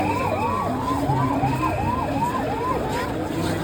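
An ambulance siren wails in repeated rising-and-falling sweeps amid a dense crowd at the Jagannath Rath Yatra festival, loud and continuous over a constant rumble of crowd and traffic noise.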